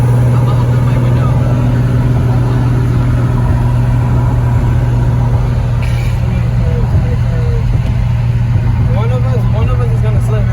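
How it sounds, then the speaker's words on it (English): Manual Infiniti G35 sedan with a suspected rod knock, its engine droning loudly and steadily from inside the car as it drives, a constant heavy hum with no quiet moments. "and my car sounds loud"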